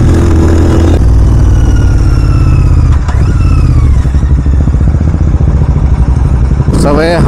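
A Royal Enfield Continental GT motorcycle fitted with a Red Rooster aftermarket exhaust rumbles loudly and close by, with a deep, steady engine throb under excited voices.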